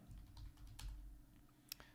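Quick, faint clicks of keys being pressed on a computer keyboard, a soft, uneven rattle of typing with a couple of sharper taps, heard close and alone at low volume.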